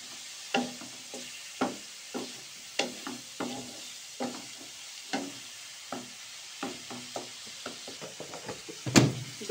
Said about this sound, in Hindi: लहसुन अदरक का पेस्ट भी इसमें ऐड कर देना है और अच्छे से इसकी भुनाई करनी है